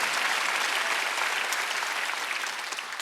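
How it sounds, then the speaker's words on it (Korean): A church congregation at a Wednesday worship service claps together in a dense, steady wash of applause that holds at even strength and fades slightly near the end. "믿는 사람만 박수하면서"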